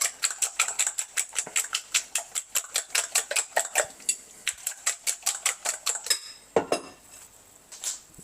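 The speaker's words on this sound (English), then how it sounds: "And just whisk everything, you know, till one smooth" Eggs for an omelette are whisked briskly in a bowl, a close, fast run of rhythmic metallic clicks that stops for a moment near the end before a few more strokes.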